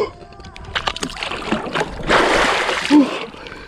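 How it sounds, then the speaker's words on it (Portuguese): Water splashes irregularly at close range as someone wades into a cold, clean lake, with surges of churning water and brief louder sloshes. "Dá um mergulho aqui."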